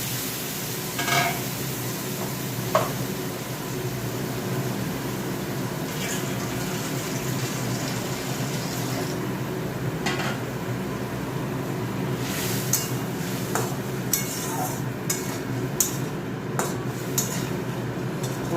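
Pointed gourd (potol) cooking in a pan over lowered gas after water is poured in, producing a continuous dense hiss and bubbling sizzle with occasional utensil clinks and stirring scrapes, steady and close throughout with no talk.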